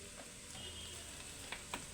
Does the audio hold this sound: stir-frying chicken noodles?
yes